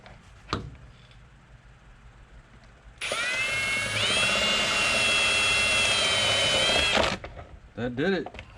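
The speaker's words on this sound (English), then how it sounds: "5/32 is the drill bit size you want for this. That removed the rivet." A power drill with a 5/32 bit drills out a rivet on a dirt bike's air scoop, a steady high whine running about four seconds after a brief clunk, close and loud, with faint handling noises around it.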